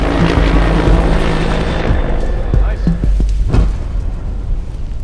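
A loud helicopter rotor drones throughout during Air Force survival training, with a few sharp thumps or bangs cutting through near the end as the noise eases slightly.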